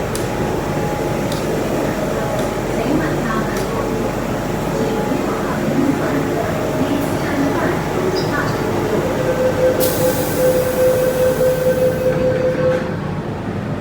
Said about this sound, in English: I'm going to wait for the train to leave